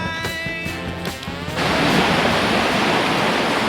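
Sea surf rolling onto a beach, a steady broad wash of breaking waves that swells louder partway through and then holds constant, with a brief patch of tonal sound at the start and no voices.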